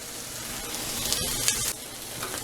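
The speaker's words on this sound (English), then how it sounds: "We're going to dump that right into the meat mixture" Manwich sauce is poured into ground meat sizzling in a pan, making a steady, fairly loud hiss and crackle throughout, with no talking.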